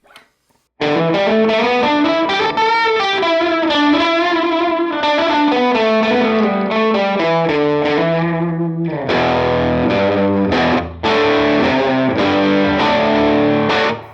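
Electric guitar strumming chords through an automatic double tracking tape effect with wow and flutter, giving a wavering, doubled, slightly warbly tone, continuous and close, with a short break near the end.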